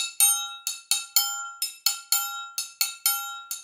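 A triangle plays a syncopated groove shifted by a sixteenth note, about a dozen bright metallic strikes ringing close and clear in an uneven rhythm, with no voices.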